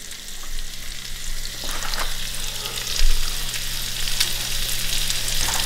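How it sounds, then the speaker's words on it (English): Sausages and steak fry together in a pan with a steady, loud sizzle and crackle, plus occasional scrapes and pops as the meat is moved around. "Instead of cooking the sausage in the microwave, I'm putting them in with a steak."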